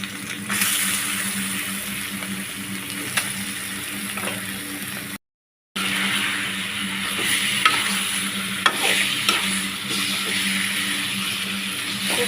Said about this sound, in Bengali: এই গরম তেলের ভিতরে দিয়ে দিব মাখানো মাছগুলো